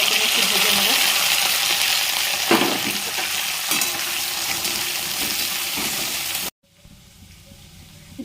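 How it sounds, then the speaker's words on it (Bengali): Onions frying in hot oil with cumin, bay leaf and chili, a loud steady broadband sizzle with occasional stirring clatter that cuts off abruptly near the end, leaving a quieter faint hiss. "এবারে তেলের মধ্যে দিয়ে এটা ভালো করে একটু ভেজে নেব"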